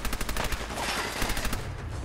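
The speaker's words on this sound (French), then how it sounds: "Et alors la mitraillette. Elle a un de ses reculs, cette arme." Rapid submachine gun fire in Fallout 4, a fast steady stream of loud close shots rattling for about two seconds with no talk over it.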